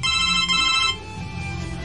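A mobile phone rings with a bright, tonal electronic ringtone, loud and close, the pattern stopping about halfway and then resuming more softly over a low background hum, with no talk.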